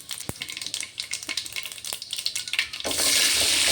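Shallots and garlic frying in oil, stirred with quick close scrapes over a sizzle that surges into a louder, denser hiss near the end.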